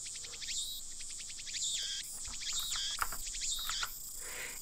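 Cicadas from the Steins;Gate video game, shrill pulsing buzzes repeating in bursts over a faint background, steady and fairly close, with no voices.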